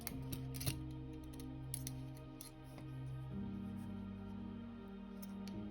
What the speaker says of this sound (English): then I'm gonna cut this yarn.